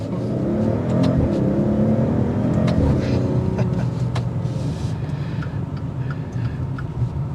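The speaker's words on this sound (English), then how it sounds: "the iconic exhaust note that you get out of a Maserati definitely sets the tone" A Maserati Quattroporte Modena sedan revs and accelerates with a deep, throaty exhaust rumble, loud and close, holding steady before easing off slightly.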